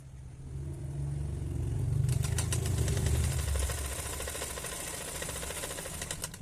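A sewing machine stitches a salwar seam, starting with a low motor hum and then settling into a rapid, steady mechanical chatter of the needle that runs on evenly, close and moderately loud with no talking.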